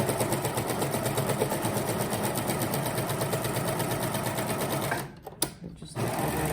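A serger runs an overlock stitch along the edge of a fabric mask, its rapid steady needle-and-knife chatter continuous for about five seconds before stopping abruptly, leaving a few quiet handling clicks.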